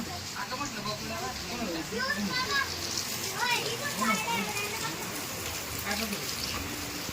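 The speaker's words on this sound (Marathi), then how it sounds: "आता पाऊस आलेला आहे" Steady rain patters and hisses all around during a power cut in darkness, with strong wind, while children's voices chatter and call out over it.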